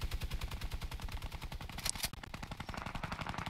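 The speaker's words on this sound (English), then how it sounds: "I hear so much gunfire right now." Rapid automatic gunfire fills a Fortnite match, a dense, continuous stream of shots with a brief sharp burst partway through. It sounds fairly distant and muffled, with no talking.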